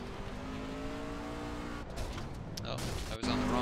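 Race trucks roaring around the dirt oval at Eldora, heard from onboard: a steady loud engine drone with a rising whine, then choppier bursts and a sudden cut near the end.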